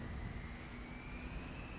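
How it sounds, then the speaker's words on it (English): A nearby airliner engine starting up in the Fenix A320 flight simulator game, a steady low rumbling roar with a faint high whine slowly rising, continuous and moderately distant. "Another aircraft starting up nearby."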